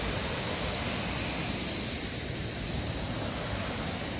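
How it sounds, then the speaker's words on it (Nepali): A river flowing beneath a bridge near Rainbow Falls makes a constant, dense rushing roar, steady and fairly loud throughout, with no voices over it. "यहाँ तपाईँले खोला देख्दै हुनुहुन्छ"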